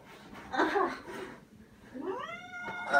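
Near the start comes a muffled, throaty noise, and then a cat gives a clear rising-then-falling meow, close and moderately loud, with no speech over it.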